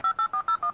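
A telephone number dialed on a phone keypad, five crisp DTMF tone bursts in a steady even rhythm with short gaps, clear and close with no voices.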